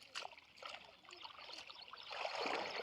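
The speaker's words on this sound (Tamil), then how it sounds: "விடுது பாருங்கள் தண்ணி." Water from an opened sluice runs into a paddy field in a faint, steady trickle with small splashing bubbles, building slightly toward the end, distant and quiet with no talk.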